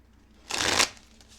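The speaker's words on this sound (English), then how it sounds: "So shuffle these a few more times here." A short, close burst of tarot cards being riffled and shuffled by hand, a crisp rapid flutter lasting about a third of a second over quiet room tone.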